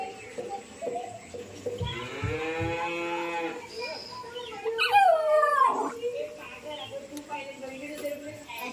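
A cow mooing nearby in a long drawn-out low call, followed by a person imitating the moo with a rising, wavering voice, with quiet background noise between.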